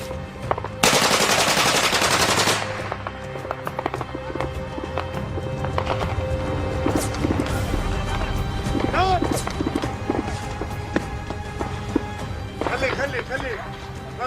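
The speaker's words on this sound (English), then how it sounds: "After nearly an hour of exchanging fire like this, we had to run away." Gunfire during fighting in Homs in the Syrian revolution, with sharp shots and bursts amid hoofbeats and outdoor commotion, loud and close at times, with voices talking over parts of it.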